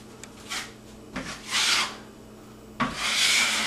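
A 10-inch broad knife spreads drywall skim coat compound across a patch, giving three broad scraping strokes with soft rasping swells, close and moderately quiet, with no talking.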